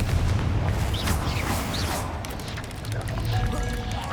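Bombarda and Confringo spell blasts in Hogwarts Legacy, booming magical impacts with crackling and whooshing tails amid a busy, rumbling game soundscape, a voice speaking briefly over them.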